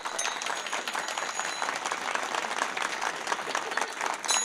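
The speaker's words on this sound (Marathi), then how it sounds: "थांबा टाळी वाजवा." Kirtan audience clapping at a Marathi devotional gathering, a dense steady patter of many hands close by for the full stretch, with a few voices mixed underneath.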